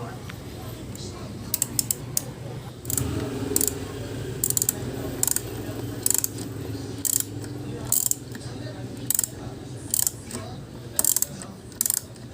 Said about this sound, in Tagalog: nagagamit po tayo ngayon ng 8mm na socket wrench para po sa bolt dito